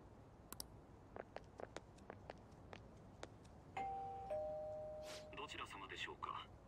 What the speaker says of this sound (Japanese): チャイム押してみろよ。